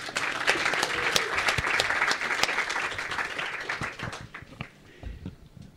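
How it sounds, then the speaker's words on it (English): An audience applauds at an academic business and engineering panel session. Dense, loud clapping fills the hall, then thins out after about four seconds into a few scattered, isolated claps. "Let's give a round of applause."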